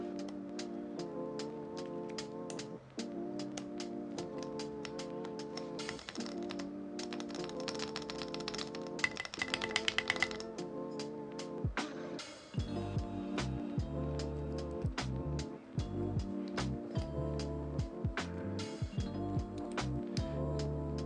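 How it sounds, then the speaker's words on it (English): Keycaps are pressed onto a Skog Reboot prototype mechanical keyboard, producing a steady run of small, close plastic clicks and taps over a faint background hum. "Always have to put on keycaps like this."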